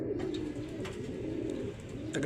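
Soft, low racing pigeon cooing that carries on steadily under a constant background hum, with a few faint clicks.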